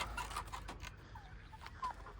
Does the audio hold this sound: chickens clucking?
yes